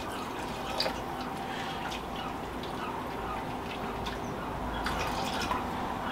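Water from a jug is poured into a Ninja Foodi pressure cooker pot while making BBQ sauce, a steady close-up trickling and splashing that runs throughout with a few sharper drips.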